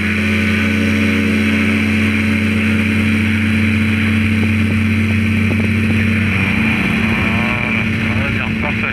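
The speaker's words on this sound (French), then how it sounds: "Ok, on lâche le frein et on gaz à fond." A light airplane's propeller engine roars at full throttle throughout during a short takeoff run, with a droning hum and a shift in tone near the end.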